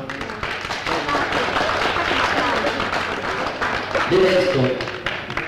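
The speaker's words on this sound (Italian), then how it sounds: "credo che l'applauso più fragoroso sia rivolto a voi" Audience applauding at a live show, steady broadband clapping throughout with a brief louder surge near the end, and a voice speaking briefly over it.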